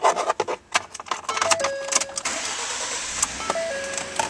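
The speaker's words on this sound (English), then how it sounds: "Now we'll start up this truck." A 2012 Ford F-150 SuperCrew FX4 pickup truck's engine cranks and fires up, followed by a steady idle with dashboard chimes sounding, close and clear with no talking.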